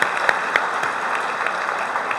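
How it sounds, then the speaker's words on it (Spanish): Steady applause from an audience, dense clapping throughout with a few sharper claps standing out, fairly loud and continuous. "Un aplauso para nuestro orador, Magín Díaz, director general de impuestos."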